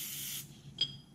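White lithium grease sprays from an aerosol can in a short hiss of under half a second, followed by a faint second puff, during work on a Honda CRX Si subframe brace and sway bar.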